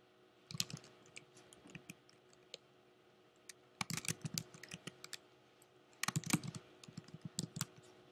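A name is typed on a computer keyboard in two quick bursts of clicking keystrokes, close and clear over quiet room tone, with a few isolated taps between them.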